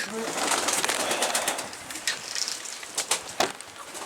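Çorum or Konya bald pigeons coo softly nearby, with wing flutters and scratchy movement around the loft.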